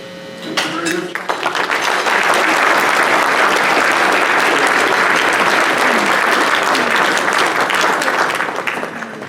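Sustained applause from an audience at a judicial officer awards ceremony, starting briefly after a few words of speech and swelling into loud, dense clapping that holds steady before tapering slightly near the end.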